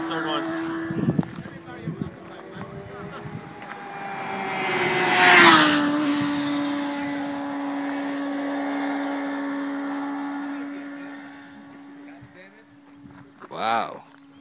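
Sport motorcycle, a Honda CBR600RR or Yamaha YZF R6, screams past on a road in Ojai, California, its engine note rising to a loud peak midway and then dropping as it fades away, with a brief bump of sound near the end.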